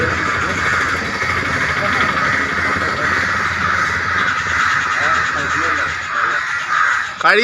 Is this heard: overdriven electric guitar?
no